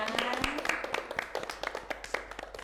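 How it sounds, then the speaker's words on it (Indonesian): Students in a classroom clap their hands in a loose, uneven patter of sharp taps, fairly quiet, with a teacher's voice briefly speaking at the start. "Oke, beri tepuk tangan"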